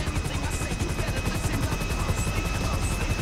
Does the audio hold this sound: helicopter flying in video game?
yes